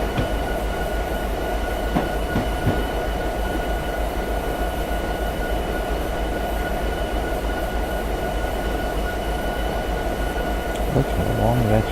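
A long diesel freight train in the Train Simulator 2017 game rolls past with a steady, unbroken rumble and a faint rail drone throughout.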